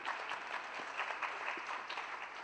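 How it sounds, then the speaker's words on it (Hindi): An audience at a book release ceremony applauds, a quiet, distant patter of many hands clapping together in a steady burst. "जोरदार ताली से स्वागत करें।"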